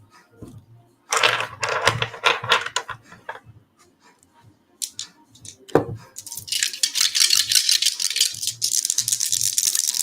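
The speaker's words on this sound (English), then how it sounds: "Throw the dice." Dice shaken and thrown, giving bursts of dry clattering rattles in several rounds with short pauses, ending in a longer, denser stretch of rattling, close and fairly loud with no talk.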